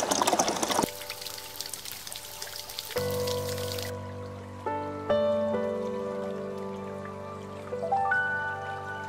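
A brief splashing burst, then water fills a container with a steady rising pour, the pitch climbing as it fills, against a background hum.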